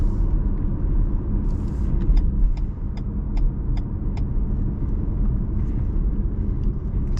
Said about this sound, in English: we're gonna put the car in sport modus